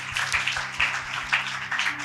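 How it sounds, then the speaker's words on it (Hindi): A church congregation claps for their pastor, a brief burst of steady, fairly close applause from many hands with a low hum underneath. "Let's give him an applause."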